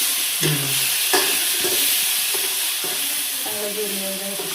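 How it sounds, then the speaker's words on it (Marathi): Ground masala being sautéed in oil in a pan, a steady loud sizzle with repeated stirring scrapes, no voices. "परतून घ्यायचं तेलात चांगलं."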